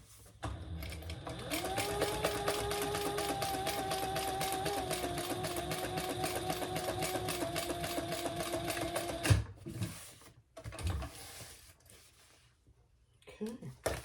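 A domestic sewing machine runs steadily for about eight seconds stitching a bag pattern, a loud even mechanical whir, then stops and gives a few short bursts as the fabric is repositioned, no voices.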